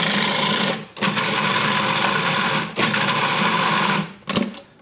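Food processor blades spinning through hummus with olive oil and broth added, a loud close motor whir broken by brief pauses into three pulses.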